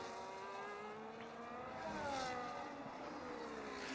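Race car engine heard onboard during a lap of the Abu Dhabi circuit in an F1 video game, a steady high-pitched whine with gently rising and falling revs, fairly quiet and continuous without talk.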